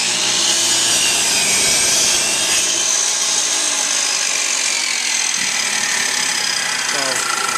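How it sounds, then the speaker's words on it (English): A miter saw cuts all the way through a wood panel for a storage chest, making a loud, steady, hissing whine that runs unbroken through the whole stretch. "this miter saw actually has a blade enough that it'll just barely cut through this all the way here"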